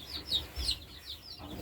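Chickens cluck in short, soft bursts nearby, a few separate calls over quiet background, with no talking over them.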